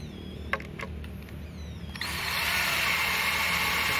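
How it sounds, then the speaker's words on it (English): A power drill fitted with a screwdriver bit drives screws into a wooden cleat on the mast of an OzGoose sailboat, opening with a few faint clicks before a steady, loud motor whir sets in halfway through and holds to the end. "you change over to the screwdriver bit and you can wind in the screws"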